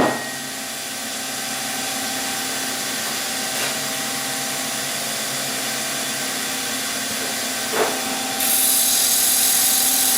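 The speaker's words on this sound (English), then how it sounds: "I can sand now, and I can sand this section here." Steady whirring drone of a power sander working a natural-edge wooden bowl, continuous and fairly close, with a brief tap or two and a brighter, hissier pitch toward the end as the grit or contact changes.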